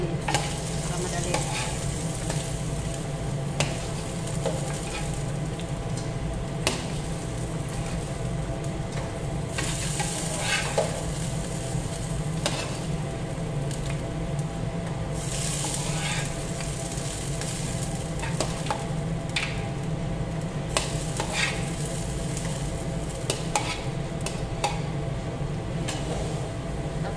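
Chicken pieces for chicken kapsa fry steadily in a hot pan, a dense continuous sizzle with occasional crackles and scrapes of stirring, close and loud throughout with no talk.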